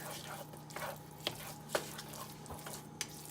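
A spoon stirs chocolate into champorado, a Filipino rice porridge, in a pot: quiet, soft scraping and squishing with a few light clinks, close by and with no talking.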